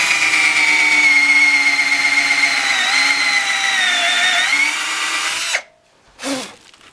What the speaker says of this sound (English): Now I'm going to take this and drill down.